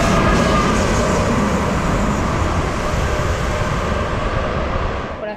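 A train at a railway station gives a loud, steady rumble with broad wheel and rail noise that holds for several seconds, then fades slightly at the end.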